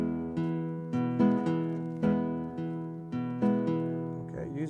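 Fingerstyle guitar accompaniment with a pinched bass-and-treble downbeat followed by a syncopated strum falling between beats three and four, repeating in a steady rocking pattern, close and alone.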